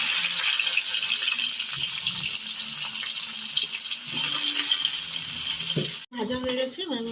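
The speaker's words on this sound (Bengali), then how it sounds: "এটা গরম হয়ে গেছে, এবার আমি গাঠিগুলোকে ভেজে নেব।" Gathi potatoes frying in hot oil for a Bengali prawn curry, a steady close-up sizzle and hiss that runs continuously, briefly cut by a clatter near the end.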